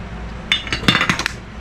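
A utensil stirs a green bean salad with balsamic vinegar in a bowl, making a short cluster of light clinks and scrapes, close and clear with no talking.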